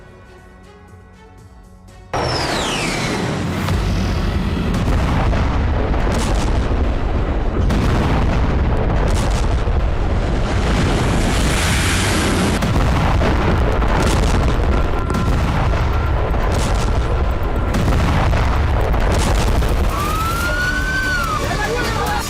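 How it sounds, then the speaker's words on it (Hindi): A loud, dense rumble of air strike blasts on weapons depots in Syria and crackling debris after a sudden onset, with a wailing siren rising and falling over the chaos. "इजरायली वायुसेना ने सीरिया में एयर स्ट्राइक करके हिजबुल्लाह के हथियार गोदामों को ध्वस्त कर दिया"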